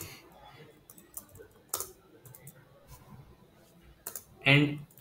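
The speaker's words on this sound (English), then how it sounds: "So if I type some text here" Someone types a few keystrokes on a computer keyboard, soft scattered clicks spread out over a quiet background, with a louder brief sound near the end.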